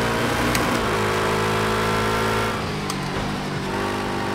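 A GT3 race car engine in Project CARS 2 runs with a steady, buzzy sputtering drone, holding a near-constant pitch before dipping slightly, loud and alone throughout.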